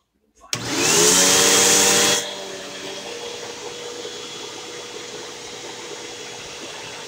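An Oryx vacuum cleaner with a freshly emptied bag starts up with a loud, steady roar that runs for about two seconds, then settles into a quieter continuous whir.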